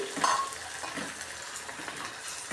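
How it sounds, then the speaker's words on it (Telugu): Thinly sliced onions deep frying in a pan of oil over a medium flame, giving a steady crackling sizzle with a brief sharper spatter near the start. "దీన్ని డీప్ ఫ్రై చేస్తాను"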